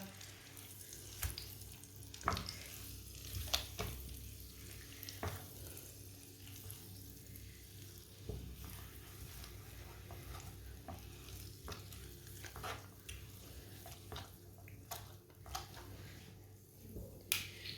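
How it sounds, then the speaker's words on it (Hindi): Dates are heated in a pan for a winter sweet, giving a faint, soft sizzle with intermittent scraping and tapping stirs at irregular intervals across a quiet room. "खजूरों को ना अच्छी तरह गर्म कर लेंगे, 2 मिनट के लिए इसे पका लेंगे ना इसी तरह।"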